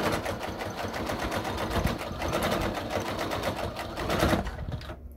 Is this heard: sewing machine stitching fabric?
yes